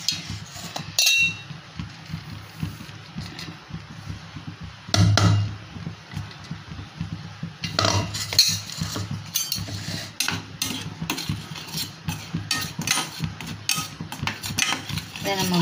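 Semolina stirred and dry-roasted in a hot pan for kesari, a spoon scraping and clinking against the metal in steady, close strokes with brief louder knocks.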